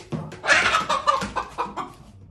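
A hen at a poultry auction clucks loudly and close in a quick run of squawking calls that taper into softer, spaced clucks, with no talking over it.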